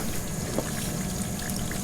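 Water runs freely from the cooling line of a mini jet boat engine, a steady pouring, trickling splash that carries on evenly without a break.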